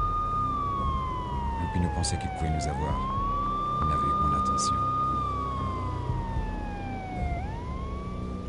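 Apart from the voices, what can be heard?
police sirens approaching, from video game Max Payne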